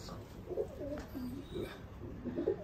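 A Salara pigeon with creamy eyes and a fixed leg ring coos in soft, repeated low rolling phrases, close by, with steady background hum and no talk.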